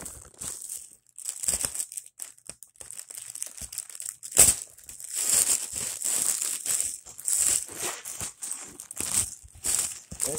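A dull knife sawing and tearing through crinkly plastic packaging, close and intermittent, with irregular scraping strokes and sharp rustling crackles between short pauses.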